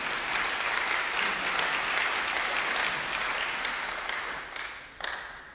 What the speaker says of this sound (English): we ought to just give God a hand clap of praise